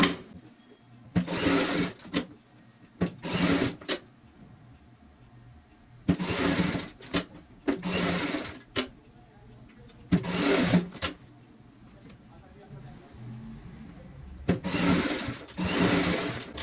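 An electric sewing machine stitches a handmade round door mat, running a double line of stitching in several short, loud bursts of rapid mechanical whirring, each separated by brief quiet pauses.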